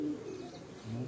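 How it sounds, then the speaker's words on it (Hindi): A rooftop flock of high-flying racing pigeons coos in low, rolling bursts, several birds close together, the murmuring swelling again near the end with no talk. "ये तमाम जो है परवाजी कबूतर हैं, हम आपको दिखा रहे हैं।"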